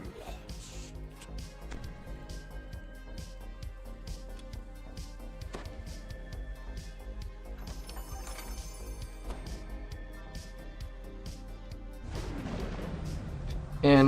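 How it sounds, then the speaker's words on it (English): Explosions and blasts go off in Dungeons and Dragons Online combat as a shifter barbarian tank fights, with repeated sharp impacts over a tonal game soundtrack and a louder burst of blasts at the end. "Explosion solves everything."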